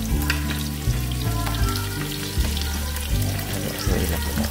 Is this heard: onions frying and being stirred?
yes